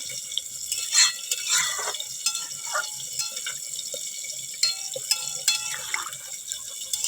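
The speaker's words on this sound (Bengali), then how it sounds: "এবারে জল দিব" Water poured into a pan of pumpkin and potato curry for fish-head ghonto, a thin splashing gush with a few louder bursts near the start, close and fairly faint, with no talking.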